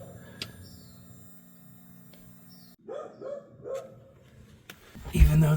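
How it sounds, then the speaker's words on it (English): A few distant dog barks in separate bursts over a quiet background hum, then a louder burst of noise at the end. "the dog barking is kind of constant"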